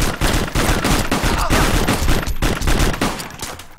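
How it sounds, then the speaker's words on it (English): Loud, continuous automatic gunfire rattles through a shooting video game, close and dense throughout. "Oh, he's shooting."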